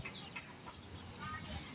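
Chickens cluck softly on a rural Thai homestead, a few short faint calls scattered through a quiet background with people talking nearby.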